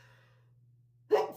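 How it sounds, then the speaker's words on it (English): One short, abrupt sneeze from an adult indoors breaks a near-silent room with a faint steady hum, coming right at the end. "I'm going to sneeze."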